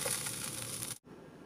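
Meat bolinhos fry in hot oil with a steady, faint crackling sizzle that cuts off abruptly, then resumes more quietly.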